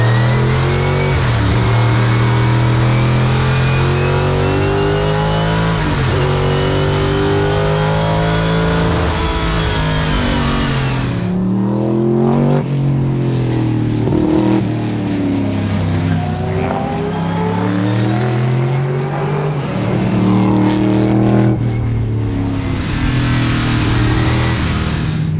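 A car engine revs hard and close for the whole stretch, rising and falling through repeated climbs in pitch, loud and continuous with brief dips between gear changes.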